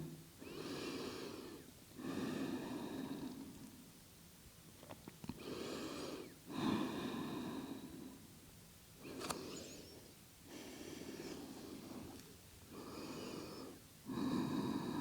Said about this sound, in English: Just a few more deep breaths here.